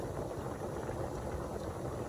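Pasta water at a rolling boil in a pot with a wooden spoon laid across it, giving a continuous dense bubbling and churning that stays close and steady throughout.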